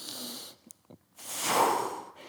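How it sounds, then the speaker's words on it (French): Heavy exercise breathing close to the mic during a guided rope workout: a long exhale, a few small catches of breath, then a loud, rushing breath that swells and fades, with no talking. "Expirez. Inspirez."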